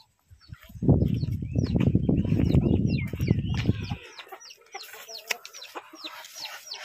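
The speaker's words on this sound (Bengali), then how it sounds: "আর মুরগির ঘরে যাচ্ছি এখন ডিম তুলতে, দেখি কটা ডিম হয়েছে।" Hens cluck busily inside a chicken coop, a dense close burst of low clucks and squawks that fades after a few seconds, leaving lighter, scattered bird calls.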